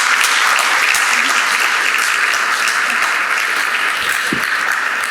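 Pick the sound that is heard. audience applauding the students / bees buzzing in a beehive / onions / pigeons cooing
audience applauding the students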